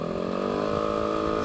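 A race motorcycle engine built by RC Bandung, set to 17:1 compression, holds a loud, steady high-pitched drone as it revs close by, with no pause across the moment.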